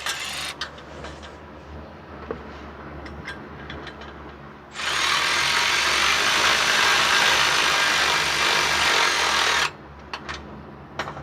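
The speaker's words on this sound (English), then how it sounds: "So we're going to tighten this up now." A power tool whirs loudly for about five seconds while tightening bolts on the rear exhaust converter of a 2015 Toyota Sienna AWD 3.5, between quieter clanks and taps of work on the car.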